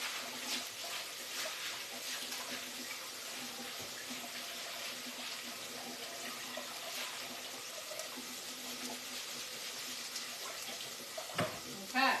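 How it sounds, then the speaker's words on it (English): Lentils are rinsed under a running kitchen tap, a steady broadband rush of water that stays even for several seconds and ends with a few clunks as the flow stops. "So let me go rinse these off."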